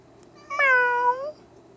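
One of two fat house cats gives a single clear, close meow lasting under a second, rising then falling, against a quiet room.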